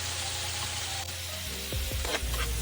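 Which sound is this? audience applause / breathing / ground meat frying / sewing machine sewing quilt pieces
ground meat frying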